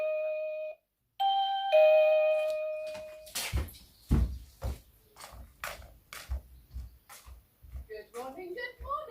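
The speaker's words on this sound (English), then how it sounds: "I think my doorbell's going to go." A doorbell sounds two clear, ringing chime tones indoors, followed by a run of thuds, knocks and rattling from a door and nearby movement.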